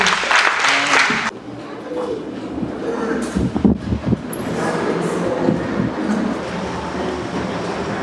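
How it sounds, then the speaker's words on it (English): Crowd clapping at a Sneaker Con event in Okinawa: a loud burst of applause opens, then cuts away into busy, rumbling ambience with scattered voices and clatter. "please clap your hands to the Japanese friends as well over there"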